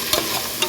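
Ginger garlic paste and yogurt sauté for biryani, giving a continuous close sizzle broken by two quick stirring scrapes, with no talking.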